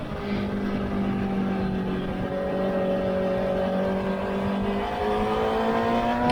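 A race car accelerates out of a corner, its engine a continuous droning whine heard from onboard. The pitch sags slightly, then climbs toward the end.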